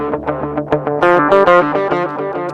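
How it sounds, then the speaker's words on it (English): Electric guitar played through a cheap distortion pedal, a short run of fuzzy, saturated picked notes and chords up close, with gritty sustain and no talking. "cheap distortion pedal."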